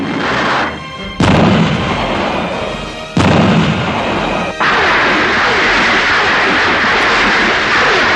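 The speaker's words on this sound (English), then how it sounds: "The thunderous response of gunfire in reply to his gunshot echoes across the" Heavy gunfire booms out in several loud blasts, each followed by a long rolling echo and a dense, sustained wash of noise; close and powerful, with no speech heard.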